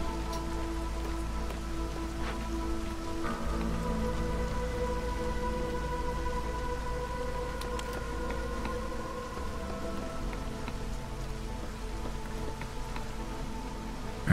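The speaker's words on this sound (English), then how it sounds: "First storm." Steady storm rain from the colony-building game Against the Storm, a continuous dense hiss of downpour with a low rumbling bed and faint tonal music layered over it throughout.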